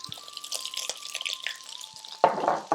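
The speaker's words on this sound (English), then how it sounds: "we're going to fry this out for around 30 seconds" Spices sizzling in a hot pan for a tikka madras, a soft crackling fry with a few stirring scrapes, close and fairly quiet, briefly louder near the end.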